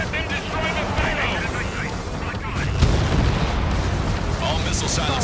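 In the Ace Combat 7 video game, missile silos are destroyed in a dense, rumbling run of booms and blasts that sounds continuous and loud, with a radio voice speaking over the explosions.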